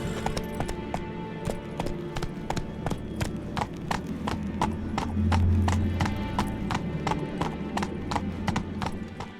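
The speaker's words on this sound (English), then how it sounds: "Whoa there, Roach" Horse hooves clip-clop in The Witcher 3, steady and fairly close, with a faint whinny or snort partway through and a low game ambience behind.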